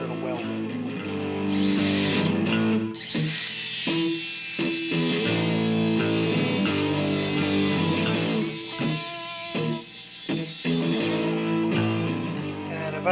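A power tool whines steadily while making a vertical relief cut in metal bracket stock for a Volvo 140 alternator conversion, loud and close with a sustained pitched drone and brief dips, continuous throughout.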